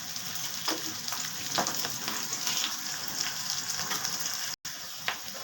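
Onions fry in a pan with a pinch of salt, a steady close sizzle with scattered spatula scrapes and a brief cut to silence near the end, no voices.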